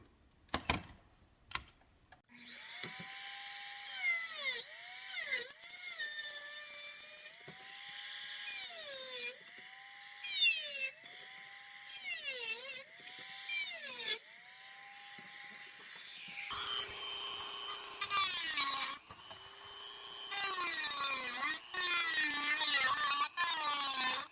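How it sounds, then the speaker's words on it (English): A Dremel rotary tool with a narrow cutting bit slices through metal, its high whine repeatedly dipping and recovering in pitch as the bit bites, in steady bursts with brief pauses and no talk. "Dremel with a cutting bit on the Dremel, narrow cutting bit"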